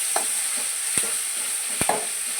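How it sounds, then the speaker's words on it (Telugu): Ginger sizzles in hot oil for chicken roast, a steady bright frying hiss with a few soft stirring clicks, close and alone with no voices. "అల్లం బాగా ఫ్రై అవుతుందండి."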